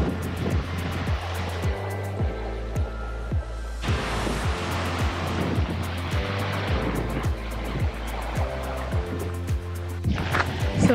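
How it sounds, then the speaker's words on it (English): Seljalandsfoss waterfall in Iceland roaring as a constant broadband rush, with a steady low rhythmic thumping running underneath throughout. "we have like the big iconic waterfall right there."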